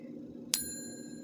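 A single bright bell ding sounds at close range and rings out with a slowly fading tone over a low background hum.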